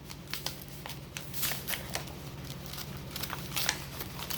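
Coats brand zipper in its packaging being handled up close, with quiet crinkling and rustling plus a few sharper crackles and taps, soft and irregular throughout.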